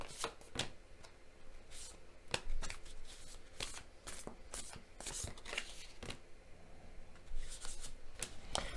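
Tarot cards being shuffled by hand in a close, quiet room, with repeated crisp riffling bursts and soft slaps at an uneven rhythm, no talking.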